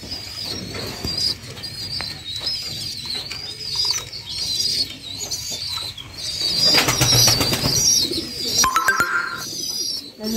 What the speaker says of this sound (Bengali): আমাদের কবুতরে খালি বাচ্চাদের আওয়াজ পাইবেন